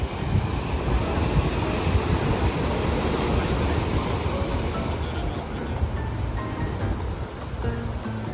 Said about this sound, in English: you watch the waves crashing right onto the cliffside restaurant